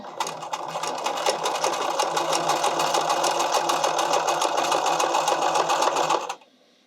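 A sewing machine zigzag-stitches over fishing line on a hem, a steady rapid mechanical chatter running loud and close for about six seconds before stopping abruptly.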